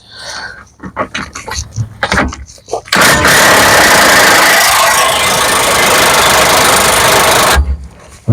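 An impact gun with a 21mm socket works on a suspension bolt of a BMW E92 3 Series, giving a loud, sustained buzzing rattle for several seconds after some clunking and handling noises, close up.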